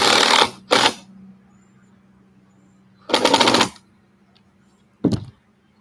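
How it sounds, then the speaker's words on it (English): Car with something loose in the front passenger-side brakes, producing short bursts of harsh metallic rattling separated by pauses, with a low steady hum in between, close and without talk. "that sounds like something's loose and shifting in there."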